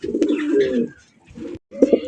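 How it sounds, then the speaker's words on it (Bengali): A pair of maxi racer pigeons coo close by in low, throaty, warbling bursts: a longer rolling coo, a short pause, then another quick coo. "মাক্সি রেসার কবুতর"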